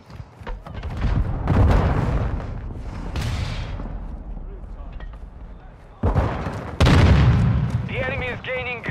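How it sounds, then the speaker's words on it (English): Grenade blast amid gunfire in the Modern Warfare 2 video game, loud booms and crackling shots layered over a dense battle soundscape. "Throw a grenade."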